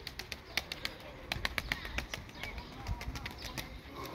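Pigeons taking off and flying outdoors, a burst of rapid wing flaps and claps at close range, irregular and fluttering, with a faint coo mixed in.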